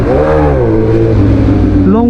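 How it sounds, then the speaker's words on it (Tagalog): A Suzuki GSX-S1000 motorcycle's exhaust revs loud and close, its engine note rising and falling in smooth sweeps and climbing sharply again at the end, with voices talking over it throughout. "Napakatunog ng kanyang tambutso, mga kapanalig."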